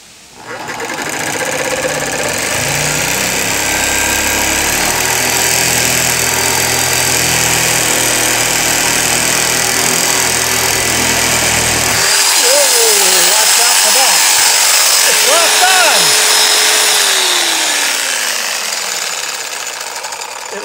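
Power tool cutting through electrical service cable for a meter plug connection, a loud continuous buzzing mechanical run that shifts pitch partway through, with talk over it.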